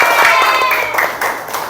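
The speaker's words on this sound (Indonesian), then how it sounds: "Nah, itu tepuk tangan dulu." Brief classroom applause, a short burst of mixed clapping with voices talking over it.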